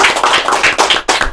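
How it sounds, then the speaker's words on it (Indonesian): Audience clapping in a school podcast setting, a dense burst of hand claps filling the short moment at steady loudness with no talk over it. "Tepuk tangan dong."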